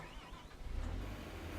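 A tractor engine in the Farming Simulator 25 video game starting up, a low rumble that swells and settles into a steady idle, close and moderately loud.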